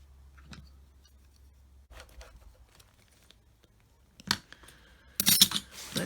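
Scissors snip through material while a door is being worked on, producing scattered close crisp cuts that build into a louder burst of rapid snipping toward the end.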